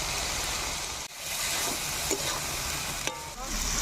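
Figs and potatoes stir-frying in a pan for a fig curry, a steady broadband sizzle with a few scraping stirs and brief clinks, close and continuous with no talk.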